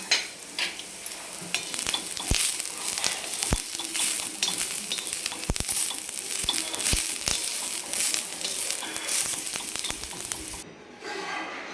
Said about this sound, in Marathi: पण त्याच्यासोबत आपल्याला हे काही मसाले भाजायचे आहेत